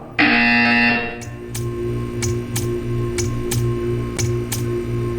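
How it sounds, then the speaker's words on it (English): A buzzer from the Portal 2 video game test chamber sounds as a loud sustained tone, followed by a steady series of sharp, evenly spaced ticks over a low electronic hum. "When you hear the buzzer, stare at the art."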